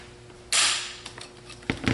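The trigger of a Remington 870 shotgun is pulled against a pull gauge, giving one crisp mechanical snap and short rattling clicks of the gauge and action, close up and fairly quiet.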